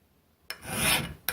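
Steel edge of a welding table rasped with a hand file to knock off burrs, one long dry scraping stroke close by, followed by the start of another, with no talking.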